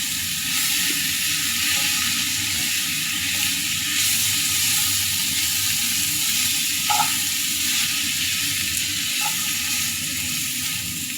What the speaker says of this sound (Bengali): আমি এখানে ঢাকনা খোলা রেখেই ভাজিটা করব।